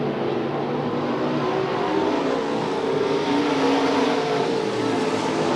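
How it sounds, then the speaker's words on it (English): Race cars on track at Gallatin Speedway, with a steady, loud roar of several engines running continuously, producing a dense wall of engine noise throughout. "Doug Martin trying to catch his way up to the number 20 car"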